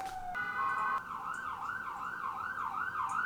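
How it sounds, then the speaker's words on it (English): An ambulance siren wails nearby and continuously, first a short rapid tone, then a steady rising-and-falling sweep repeating, heard alone. "This ambulance won't stop."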